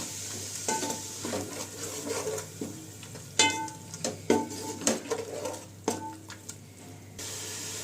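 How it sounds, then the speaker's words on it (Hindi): Red chilli and turmeric powder fry on high flame in a pan, making a low sizzle under quick, irregular scrapes and metallic clinks of a spoon, close by and with no talking. "अब इसको हाई फ्लेम पे 1-2 सेकेंड के लिए भून लीजिए।"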